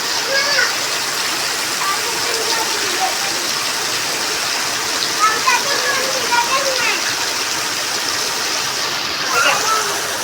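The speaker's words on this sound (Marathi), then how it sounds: "बाहेर मुसळधार पाऊस" Heavy unseasonal May rain pouring down outside, a loud, unbroken roar of water with faint voices briefly heard beneath it.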